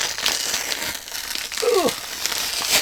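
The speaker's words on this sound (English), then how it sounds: "Let me see if I can peel this off of here." Adhesive backing peeled off a paper journal cover gives a close crinkling, crackling rip with irregular bursts and a brief squeaky streak partway through.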